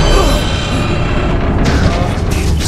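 A rocket blast rumbles through Guardians of the Galaxy, a dense, sustained low boom that fills the whole short stretch with crashing debris and mechanical clatter.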